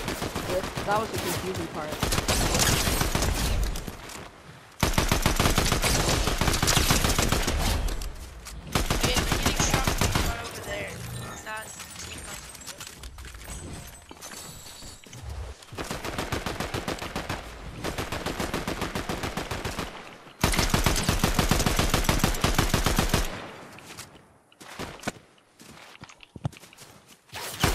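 Fortnite gunfire comes in long, loud, close bursts of rapid automatic shots separated by quieter gaps with footsteps, while someone talks over the action.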